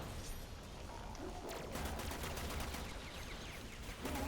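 Gunfire in Warframe, a dense rapid fusillade of weapon shots crackling continuously over game ambience, loud and close.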